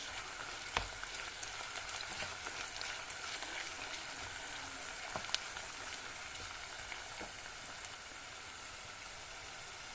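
Meat and onions fry with pepper paste in a pan, making a soft, steady crackling sizzle with occasional light clicks, fairly quiet and continuous with no talking.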